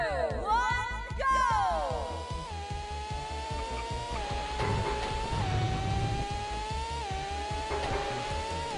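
Several car engines rev and whine in a video game elimination race, sustained loud tones shifting pitch as the cars accelerate after the start, with occasional tire squeal and faint talk underneath.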